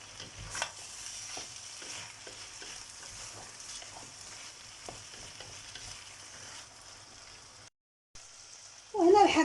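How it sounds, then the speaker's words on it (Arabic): Vegetables and fish sauté in a pan for seafood paella, a soft continuous sizzle and frying crackle heard close up with light stirring scrapes, a brief gap near the end, then a louder burst. "وتنشحروا هنا الخضيره والحوت تنشحرهم على خاطرنا"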